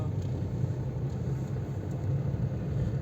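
A car making an unusually loud noise while driving on the road from Delhi to Dehradun, a heavy, steady low rumble throughout with no talk.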